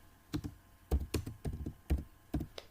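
Fingers tap out short bursts of clicky keystrokes on a computer keyboard, close and fairly quiet, with brief pauses between clusters.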